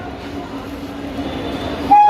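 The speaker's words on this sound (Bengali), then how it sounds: "সবেমাত্র ট্রেন ঢুকলো" Gaya Howrah express passenger train arriving at Gaya station: a low steady rumble of railcars rolls close by, then a sharp horn-like tone sounds near the end.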